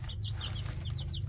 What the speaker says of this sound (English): Happy little chickens.